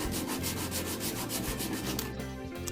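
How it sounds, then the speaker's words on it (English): 220-grit sandpaper is worked back and forth against the wooden edge of a bass guitar neck, giving a dense, close rhythmic scratching with steady repeated strokes. "I just used some 220 sandpaper and ran this back and forth until it thinned down enough"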